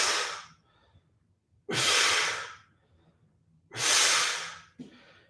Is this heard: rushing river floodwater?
no